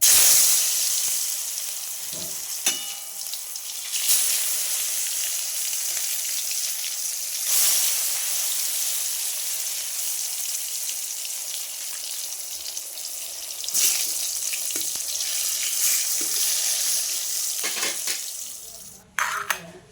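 Continuous hissing sizzle of eggplant slices frying in hot oil, with occasional clinks of a utensil against the pan.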